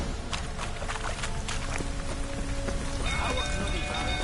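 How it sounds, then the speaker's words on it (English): Steady rain falling in The Witcher 3 game world, a dense continuous patter of drops on surfaces, with faint footsteps and a thin high tone entering near the end. "Looks like rain."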